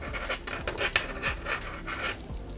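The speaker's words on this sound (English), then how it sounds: "Sorry about the noise this buckle makes." A metal watch-strap buckle scrapes and rubs in short repeated strokes while paracord is stitched through a strap with micro cord, close and fairly loud, with no talking.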